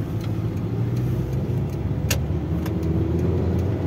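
A Honda Stream 1.7 with a manual gearbox drives around the Simpang Gumul monument, its engine a steady low hum heard from inside the cabin, with faint clicks and rattles over it.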